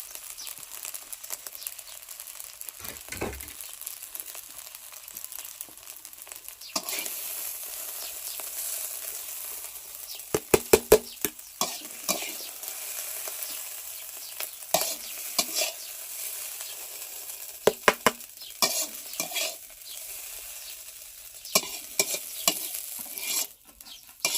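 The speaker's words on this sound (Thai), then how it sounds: "ผัดข้าวยอดผักคะน้านะคะ" Rice stir-fried with kale shoots in a pan, a soft continuous sizzle punctuated by scattered clinks and scraping bursts of a utensil, moderately close, no talk.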